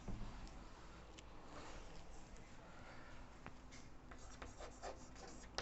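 A pen or marker writes trigonometry values on a surface during a lesson, with soft, continuous scratching strokes and a few light taps, close by and quiet, and no talking over it.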